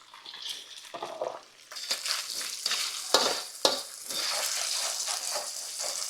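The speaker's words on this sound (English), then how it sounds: "Now let's put these onions in there." Onions dropped into a hot pan for chicken fried rice, a loud sizzle that jumps up as they hit the oil, with sharp clatters of stirring, then a steady hiss.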